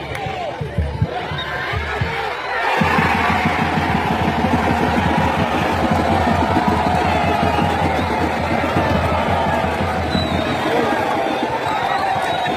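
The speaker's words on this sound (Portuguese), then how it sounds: "Gol muito comemorado pela torcida e comissão técnica" A Brazilian Série D football crowd roars and cheers steadily after a Parnahyba SC goal against Fluminense do Piauí, a dense, loud stadium din that swells after a short quieter lead-in and holds to the end.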